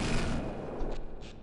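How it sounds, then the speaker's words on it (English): A burst of assault rifle fire in Half-Life (1998) rattles loud and close for a moment, then fades into softer scattered echoes and thuds. "Trusty old machine gun."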